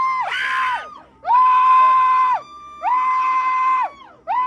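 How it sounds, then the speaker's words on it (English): People scream in three loud, sustained bursts with a shorter fourth as a bear opens the door of a parked Mercedes, caught on a security camera outdoors; the shrill cries are separated by brief pauses. "once the bear opens the freaking door, that's when the people begin to scream"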